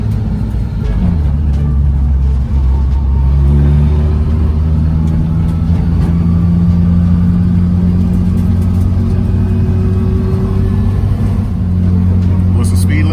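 Car accelerating in third gear while driving calmly on a quiet neighborhood street near a park, a steady, loud interior engine drone with rising tones, heard alone without talking.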